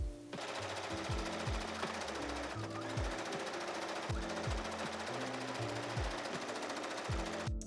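A sewing machine runs continuously, stitching bias tape across the bottom of a corset bodice for a prom dress, with a fast rattling hum and a rhythmic low thumping throughout.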